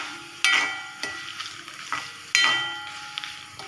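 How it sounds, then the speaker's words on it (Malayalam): Mustard seeds and onions fry in a pan for a stew with egg and potato, a steady close sizzle broken by sharp scraping stirs at regular intervals, with no voices. "നമ്മളുടെ കടുക് വറുത്ത ഉള്ളിയൊക്കെ ഒന്ന് ബ്രൗൺ നിറത്തിലാവുന്നുണ്ട്"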